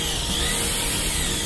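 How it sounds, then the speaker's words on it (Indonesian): A PROHEX electric impact drill with a 10 mm wood bit bores into a thick pallet beam, giving a steady, loud, high whine with a grinding edge and no pauses. "Kemudian saya gunakan untuk mengebor kayu dengan mata bor kayu 10 mili."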